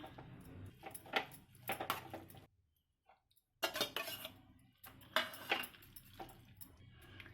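Spoon scraping and clinking against a bowl while curd and cooked semiya are stirred together, in uneven bursts with a brief pause midway; close and fairly quiet.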